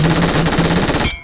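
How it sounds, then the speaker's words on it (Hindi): Rapid automatic gunfire in the battle royale game BGMI, a loud, close, fast burst of repeated shots that cuts off abruptly after about a second. "देखिए गोली चला रहा है बंदा"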